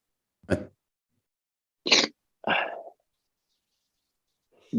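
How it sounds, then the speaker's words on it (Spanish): Three short, sharp coughs sound close up, the first alone and the next two nearer together, with quiet gaps between them. "No, es que estoy tosiendo."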